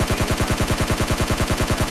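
A Scar-L rifle in PUBG Lite fires a rapid, unbroken spray of about twenty evenly spaced shots, loud and punchy with sharp cracks in quick rhythm, alone without talk.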